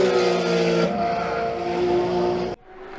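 Porsche 911 GT3 R with a 4.2-litre naturally aspirated flat-six, a loud close high-pitched wail holding steady as it passes, then cutting off abruptly.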